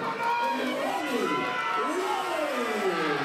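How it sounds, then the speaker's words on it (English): A crowd roars and cheers at an amateur boxing match in the ring, a loud continuous wall of voices with rising shouts throughout, while a commentator talks over it. "Hark at this crowd."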